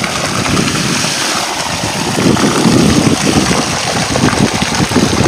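Water gushes at full pressure from the 4-inch delivery pipe of a solar-powered tube well pump on a farm where carrots are being washed, a loud, close, continuous rushing roar that swells slightly midway.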